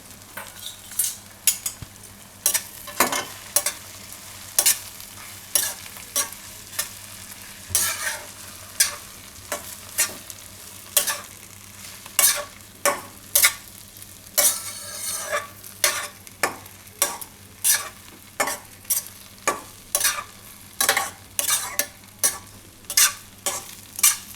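Bread crumbs are stirred into a cooked tomato mixture in a pan for Gujarati bread upma: rhythmic scraping strokes of a spoon against the pan repeat over a low sizzle, close and with no voices.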